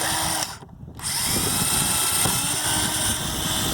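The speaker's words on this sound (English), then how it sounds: "I'm going to drill a hole right about there." A power drill bores into the sheet-metal side of an HVAC plenum, its loud, steady whine briefly dropping off before revving back up and running continuously.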